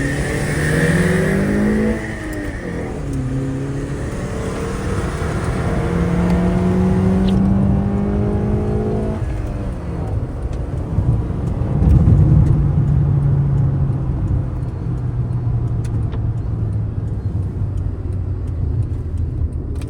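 A Hyundai Verna diesel and a Honda Accord i-VTEC accelerate hard side by side in a race. Engine notes climb steadily through the gears, with a shift break near the start and another midway, loud and close throughout.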